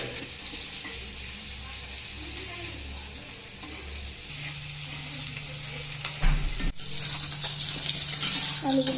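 Potatoes frying in a pan with a steady, close sizzle and bubbling, joined by occasional stirring and clatter toward the end.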